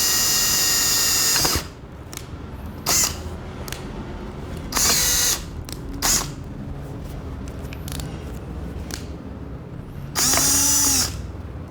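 A power drill bores a hole in a motorcycle handlebar on a 2023 Ducati Scrambler, whirring in several short, loud, close bursts separated by pauses with quiet clicks.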